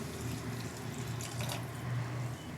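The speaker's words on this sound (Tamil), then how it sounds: "நல்லா வதக்கியாச்சு. தண்ணி சேர்த்துக்கலாம்." Water runs into a pan of sautéed drumstick and brinjal for Tamil kara kuzhambu, a steady, close splashing pour that continues evenly for a couple of seconds with no talking.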